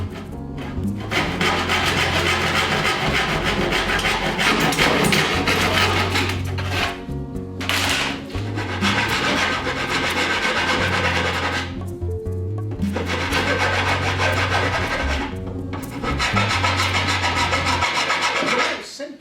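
A sheet corner is cut by hand with a saw for a table saw extension build, heard as long rhythmic rasping strokes, loud and close, broken by short pauses between runs.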